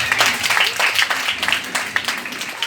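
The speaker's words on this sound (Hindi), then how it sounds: "एक बार जोरदार ताली बजाइए।" Lively crowd applause at a live Mata ki Jyot devotional gathering, a short, dense burst of clapping with a loosely pulsing rhythm.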